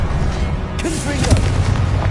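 A Confringo blasting curse explosion in Hogwarts Legacy, a loud booming blast with a rumbling tail amid battle noise, with a voice speaking briefly alongside.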